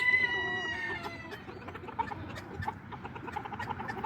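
Chickens clucking at a distance, with a long drawn call at the start followed by scattered soft clucks over outdoor background noise.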